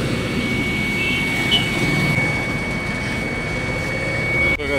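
A TVS iQube electric scooter gives off a steady, loud droning whine with a low rumbling hum underneath, an abnormal noise running continuously before a brief dip near the end.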